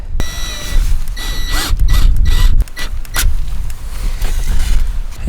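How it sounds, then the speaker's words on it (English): Screws go back into a Starlink flat roof mount in a quick run of close mechanical clicks, ratcheting and creaks, with a few sharp taps in between. "Now just toss the screws back in."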